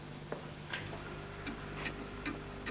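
A clock ticks steadily on a 1991 Australian children's TV programme, with soft, evenly spaced ticks heard alone against a quiet studio background.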